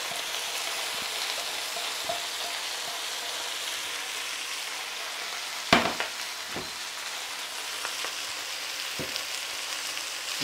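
Kassler and white cabbage braising in fat in a pot give a steady close sizzle, broken by a few scraping knocks as a spoon stirs.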